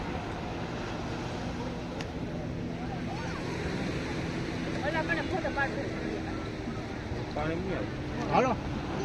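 A boat's engine drones under wind and wave wash at sea off Nagoa Beach, with voices talking over the steady outdoor rumble.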